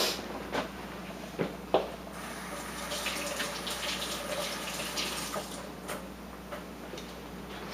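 Water wetting a carved wooden figure, a piece made from a block of wood: soft, continuous splashing and trickling, close by and fairly quiet, with a few faint taps.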